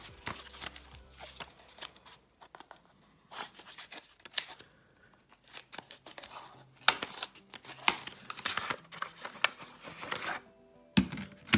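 Graded trading cards in new PCA slab cases are unwrapped, with bursts of crinkling plastic, tearing and handling clatter coming in irregular close-up spurts separated by quiet pauses.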